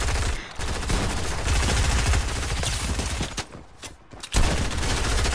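Rapid automatic gunfire in a Fortnite match, loud bursts of shots firing in quick succession with a brief pause near the end before another burst.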